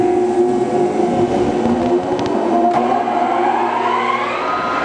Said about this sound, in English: I'm going to go ahead and start the grinding wheel.